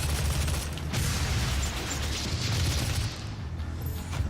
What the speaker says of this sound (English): I can probably get that Hell Knight in this explosion right here.